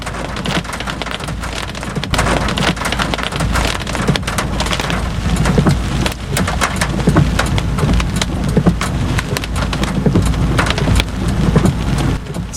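Heavy rain pours during a Florida thunderstorm, a dense, loud, continuous hiss of drops with sharp spattering impacts throughout, heard up close with no voices.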